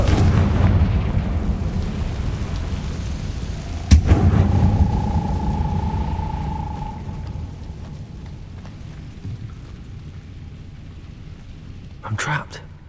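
Confringo blasting spell in Hogwarts Legacy goes off with a sharp crack and burst at about four seconds, followed by a rising whistling tone and a rumbling, rain-like wash, with a second smaller burst near the end.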